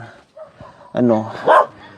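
A dog at a bamboo-and-leaf hut in the mountains gives a couple of short, close barks and yips, mixed with a person talking nearby.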